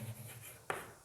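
Pen strokes scratch across paper while a maths problem on quadratic equations is written out, faint and close, with a soft continuous scribble and two sharper marks near the end, no voice.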